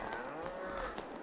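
Cattle mooing in the farming video game Farming Simulator 22, a couple of drawn-out tonal calls close by that fill the short clip with no talk over them.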